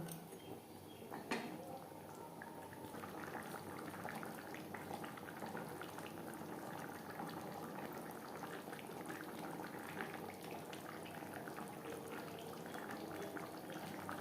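Silver carp curry with capsicum and fish heads simmers in a pan, making a faint, steady bubbling and sizzling hiss that carries on evenly throughout with no voices.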